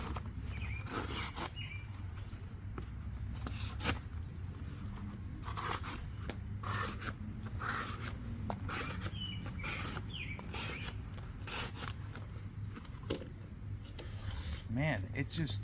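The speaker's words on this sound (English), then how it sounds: "it zips right through cardboard really nicely" A full-size Benchmade Adamas knife with a CPM CruWear blade slices through cardboard, making repeated scraping, zipping rasps in short strokes, close and steady throughout.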